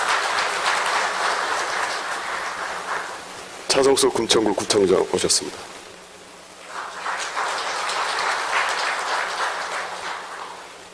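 Audience applause at a business CEO forum welcomes arriving guests, a dense steady clapping that fades out as a man announces a guest's name over a microphone, then swells again afterward.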